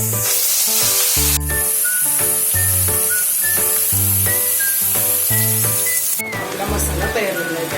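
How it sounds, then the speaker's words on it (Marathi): Garlic and spice masala fries in a small bowlful of oil for a spicy udid dal, a bright continuous hiss that starts abruptly and runs for several seconds beneath loud background music. "एक आपण छोटी वाटी तेल घेतलेले, आता ते आपण टाकून त्याच्यामध्ये हे मसाला तयार केलेला परतून घेऊ"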